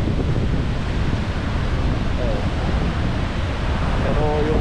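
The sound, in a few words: strong monsoon wind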